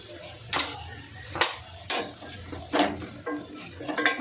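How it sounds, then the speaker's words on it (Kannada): Chaat masala being stirred into food in a pan with the stove switched off, heard as several distinct scraping strokes about once a second, each with a soft sizzle and a light clink of utensil against pan. "ಒಂದ್ಸಲ ಮಿಕ್ಸ್ ಮಾಡ್ಕೊಳ್ತೀನಿ."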